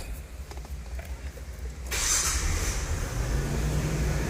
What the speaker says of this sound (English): Let's start this up real quick.